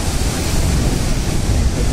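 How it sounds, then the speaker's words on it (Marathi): An ocean wave rushes up the shore at Dapoli on the Konkan coast of Maharashtra, a loud, close, continuous roar of surf with no break. "आता लाट आली"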